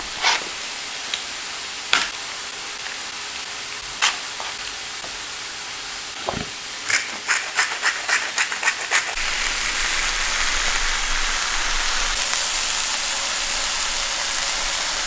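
Seasoned chicken pieces crowded into a hot pan give off a steady, loud sizzle and frying hiss that swells and stays dense through the second half, after scattered clicks and clatter of utensils early on.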